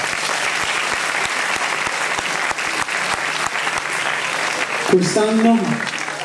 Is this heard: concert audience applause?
yes